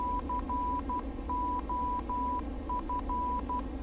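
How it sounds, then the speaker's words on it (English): A single steady tone beeps in short and long bursts, a Morse code pattern from an ILS beacon in Microsoft Flight Simulator X, over a constant low droning hum. "The beeping that you hear is Morse code"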